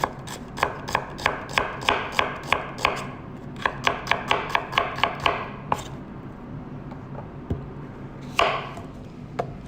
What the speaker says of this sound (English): We cut from the outside of the circle to the inside of the circle.